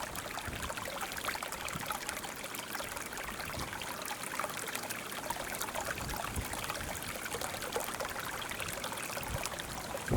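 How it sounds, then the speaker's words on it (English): Creek water in the Australian countryside spills over two waterfalls, giving a steady, even rush and trickle that runs unbroken and fairly soft. "Here we've got two waterfalls."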